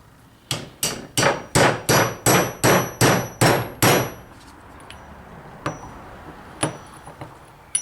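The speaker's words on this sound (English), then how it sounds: "what I'm going to do is just tap it down" About ten quick, evenly spaced metallic hammer taps on an NP208 transfer case cap, sharp and close, followed by a few scattered lighter knocks.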